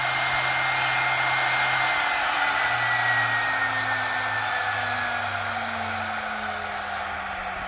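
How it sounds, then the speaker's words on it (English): A CNC router spindle on a Onefinity machine with a Masso controller runs steadily, a loud continuous high whine with airy rush that holds close and even throughout, pitch drifting slightly as the speed changes. "Spindle's wired up and working."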